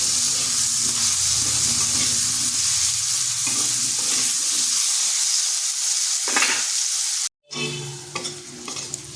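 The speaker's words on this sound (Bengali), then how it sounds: "সামান্য লবণ আর সামান্য হলুদ গুঁড়ো আলুটাকে হালকা বাদামি কালার করে ভেজে নেব" Diced potatoes with a little salt and turmeric sizzle steadily in hot oil for a Bengali lentil-fritter curry, with intermittent stirring scrapes throughout and a brief silent break before the frying resumes.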